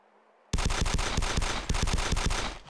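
Gunfire in DayZ: a fast, loud burst of rapid shots that starts abruptly after a moment of near silence and continues evenly for about two seconds before cutting off.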